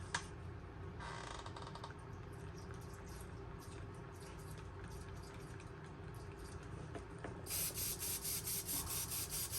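Airbrush spraying deep purple candy paint onto a fishing lure, a steady hiss of air running throughout, with bursts of fine spray growing louder and pulsing near the end.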